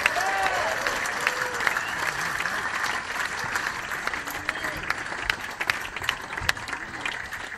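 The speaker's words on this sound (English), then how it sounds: "So ladies and gentlemen, keep the applause going there" Audience applause fills Ronnie Scott's jazz club after a band set, a dense, sustained roar of clapping with a few cheers, steady and fairly loud throughout, with a voice speaking over it.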